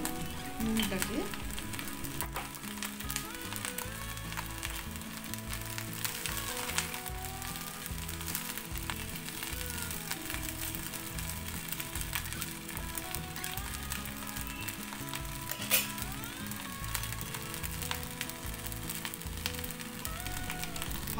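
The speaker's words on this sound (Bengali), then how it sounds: "ভালো করে মিক্স করে নিলাম নুনটাকে।" Cumin rice frying in a pan as salt is stirred through it, a steady close sizzle with soft scraping of the stirring, continuous throughout.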